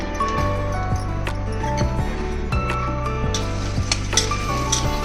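Dry fruits fry in hot ghee with a steady sizzle, joined by intermittent clinks and scrapes of a spoon against the pan, with music playing underneath.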